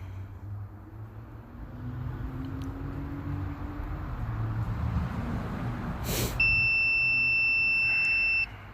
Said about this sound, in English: Constant beeping.